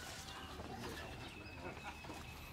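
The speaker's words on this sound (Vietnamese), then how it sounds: "Vậy là chú Sáu nuôi mấy con chim này cho vui ha." Pet pigeons or doves kept at a rural home in Ca Mau, Vietnam, cooing softly and faintly in a low, continuous murmur over outdoor background noise.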